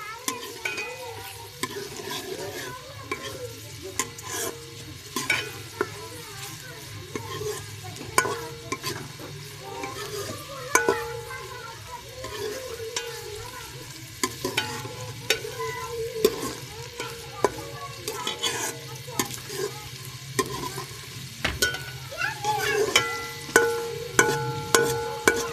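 Chopped onions frying in ghee in a pot, a steady close sizzle with frequent scraping and clinking of a spoon as they are stirred, continuous throughout without talking.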